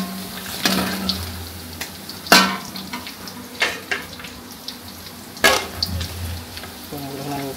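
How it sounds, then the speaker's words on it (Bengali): Paneer pieces fry in hot oil, giving a continuous sizzle broken by sharp clatters as the pieces are stirred and turned in the pan, close and moderately loud. "যে পনিরগুলা লাল লাল হয়ে গেছে, ভাজা হয়ে গেছে, পনিরগুলো আমি উঠাই নিতে হবে।"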